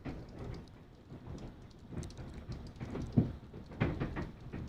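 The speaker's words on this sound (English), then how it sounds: "That's the hail hitting the studio here." Hail pelts a TV station studio building in a severe storm, a dense patter of hard little impacts with sharper knocks and louder bursts near the end, heard from inside at a fairly faint level.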